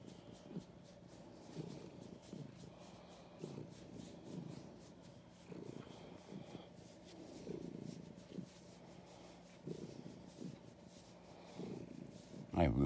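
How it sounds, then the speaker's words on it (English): A soft, rhythmic cat purr pulses steadily in slow waves, close and quiet, with faint rustling near the end. "Now she is purring away."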